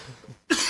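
A single sharp cough from a man in a post-match esports interview, abrupt and fairly loud after a moment of quiet.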